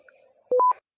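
Mobile phone keypad tones: three short electronic beeps in quick succession, clear and close, after a faint background hum.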